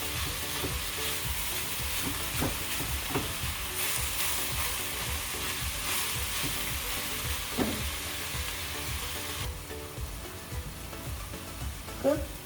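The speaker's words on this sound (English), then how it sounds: "Cook until the beef get brown." Ground beef fries in bacon fat for chilli, a steady broadband sizzle running throughout with occasional soft taps and scrapes as the meat is broken up and mashed down, fairly close and with no talking.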